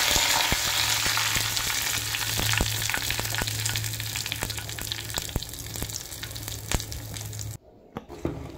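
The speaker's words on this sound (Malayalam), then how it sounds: "ഉലുവ, കടുക്, മുഴുവൻമുളക് ഇട്ട് കൊടുത്ത് നല്ല പോലെ പൊട്ടി കഴിയുമ്പോൾ" Fenugreek, mustard seeds and dried chillies fry in hot oil with a dense, steady sizzle. Sharp pops crackle through it for several seconds before the sound cuts off abruptly near the end.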